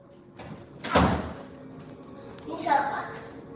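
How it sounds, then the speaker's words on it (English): A door shuts in another room with a muffled thud, then a second softer bump follows. People are talking throughout. "Sound like somebody went into a room and shut the door behind them."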